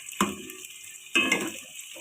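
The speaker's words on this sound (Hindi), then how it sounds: "हमारा प्याज ब्राउन हो रहा है" Sliced onions fry in a pan for potatoes, carrots and fenugreek, a steady soft sizzle broken by two louder bursts of stirring or scraping, close by with no talking.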